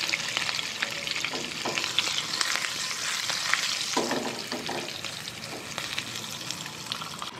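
Mustard seeds, green chili, curry leaves and asafoetida fry in a little hot oil, crackling and sizzling loudly and steadily close by, with scattered pops from the seeds.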